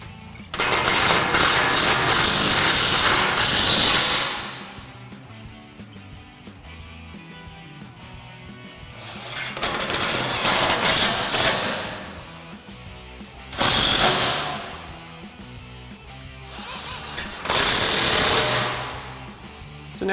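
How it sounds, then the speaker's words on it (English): An impact wrench with a 5mm Allen head socket drives Allen head bolts on a front bumper for a 2016-2023 Toyota Tacoma, loud close rattling hammering bursts of several seconds each, separated by quieter pauses. "tighten down our Allen head bolts with our 5mm Allen head socket on"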